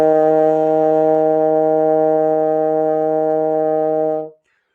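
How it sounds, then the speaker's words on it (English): One long, steady trombone tone held evenly at full volume for about four seconds, then cut off cleanly, played solo. "I'll play it in trombone."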